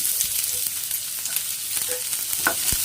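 Half a large onion sautés in a hot pan for a Tamil curry, a steady close sizzle broken by a few soft spatula scrapes and taps, no voices.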